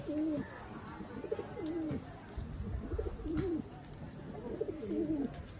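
Pigeons from a prized home collection in Chinsurah, sourced from Kolkata, coo close by in repeated rolling bouts, one soft burbling phrase after another with no one speaking.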